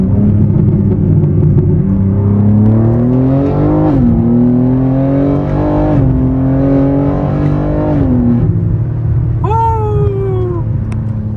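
BMW M4 (G82) fitted with an SST valve controller and downpipe, exhaust revving hard nearby in repeated rising pulls with brief drops between them, ending in a quick high-pitched rev flare.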